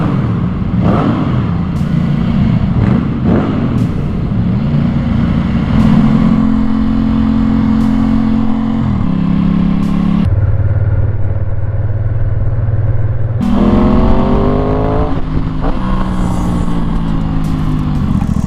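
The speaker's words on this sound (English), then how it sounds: "some raw sound of this MIVV exhaust on this 2022 Aprilia 660 as we leave this garage" 2022 Aprilia 660 motorcycle with an MIVV exhaust leaving a garage and riding through a tunnel, loud close engine with repeated revving and rising acceleration through gears, echoing, with brief gaps.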